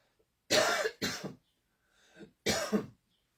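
Three sharp coughs in quick succession, close and fairly loud, with a softer throaty sound between them.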